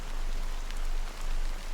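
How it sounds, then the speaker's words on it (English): Steady, dense rain pours down in a Honkai Star Rail game scene, a continuous soft hiss of drops with no pauses and no voices. "how long has this rain been going on for?"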